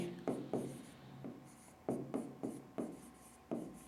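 Chalk or marker strokes on a classroom board during a physics lecture on projectile motion: a quiet series of short taps and scratches in an irregular rhythm, with a faint voice in the background.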